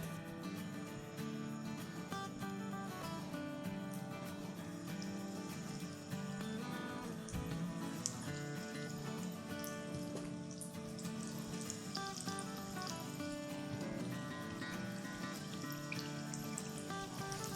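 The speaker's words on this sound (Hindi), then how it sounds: "तो बस इसे हम जब तक फ्राई करते हैं जब तक नीचे का कलर थोड़ा सुनहरा ना हो जाए" Pizza pocket rolls fry in hot oil in a pan, giving a steady, even sizzle with dense crackle and popping that carries on without a break.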